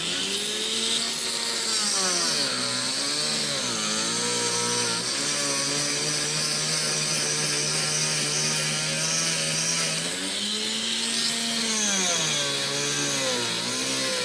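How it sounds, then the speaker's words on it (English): A power drill whines continuously at close range, drilling out a car tire, its pitch rising and falling as the load changes while it grinds through the rubber. "I'm gonna finish drilling this tire out for you guys real quick."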